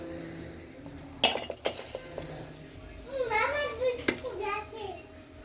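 Food is served onto a child's plate at home, bringing a few sharp clinks of cutlery against dishes, followed by a voice chattering close by.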